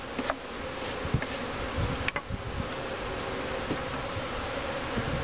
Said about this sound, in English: I'm going to brush the bees down inside as they start to try to sting me